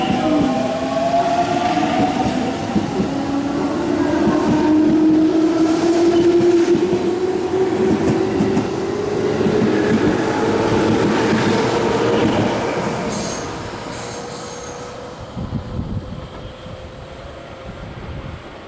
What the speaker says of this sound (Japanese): 1番線から発車します列車は8時16分発、快速中津川行きです。